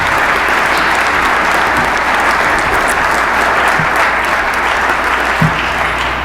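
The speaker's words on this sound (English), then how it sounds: "Ladies and gentlemen, about a round of applause for our new vice president here at the college" Loud, dense applause from an audience at a sports hall of fame induction ceremony, welcoming a new college vice president, sustained and steady throughout with no talking over it.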